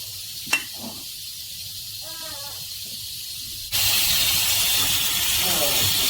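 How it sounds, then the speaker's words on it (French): Aubergines and garlic fry in a drizzle of oil in a pot, starting as a quiet hiss with a brief clink and then jumping to a loud, steady sizzle midway through. Faint voice-like sounds occur in the quieter opening. "dans la marmite, j'ai mis les aubergines et l'ail avec un filet d'huile"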